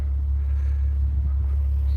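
A Volkswagen Golf Mk2 with a 3.2 VR6 engine idles after winter storage, a steady deep rumble that holds close and even throughout with no revving.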